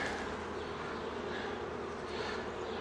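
Honeybees massed on a hive frame while a nuc is installed into a new hive: a dense, steady, close buzzing drone that holds evenly throughout, with no talking.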